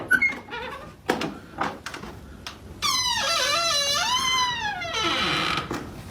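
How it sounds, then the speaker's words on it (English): A door creaks open with a long, wavering, high squeak that rises and falls over several seconds, preceded by a few short knocks and bumps. "Damn, that door needs some car engine oil."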